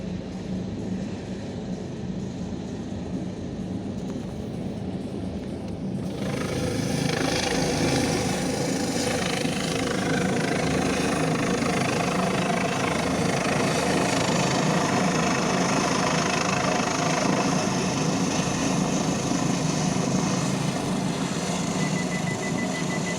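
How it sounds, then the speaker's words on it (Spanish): A Suma112 emergency helicopter lifts off from a hospital in Madrid, its loud, steady turbine and rotor drone swelling noticeably a few seconds in and then holding a constant, heavy roar to the end, with no one speaking. "justamente he pillado ahora mismo un helicóptero levantándose de aquí, de Madrid al hospital,"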